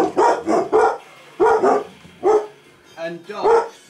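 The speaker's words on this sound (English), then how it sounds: "And dogs. Very, very loud dogs." Several loud dog barks close by, arriving in quick clusters of two or three with short pauses between, one softer whimpering yip mixed in.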